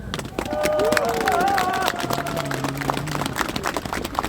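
Protesters at an outdoor free-media rally in Opole clap for TVN journalists, a steady crowd applause mixed with shouts and voices, while a few sustained whistle-like tones rise over the din early on.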